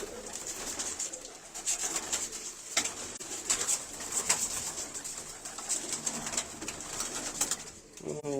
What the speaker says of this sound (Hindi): अच्छे कबूतर हैं।